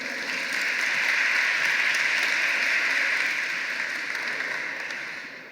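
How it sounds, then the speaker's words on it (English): An audience at a Carl B. Stokes Day ceremony claps steadily in a sustained round of applause, a dense even patter at moderate volume that swells slightly and then gradually fades, with no voices over it. "Let's give her a round of applause."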